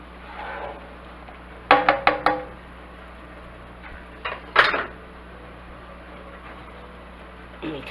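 A spoon scrapes and clanks against a metal pot of pasta in a home kitchen while lasagna is being made, in a short burst of four or five knocks, then a second pair of clatters after a pause. A steady low hum runs underneath.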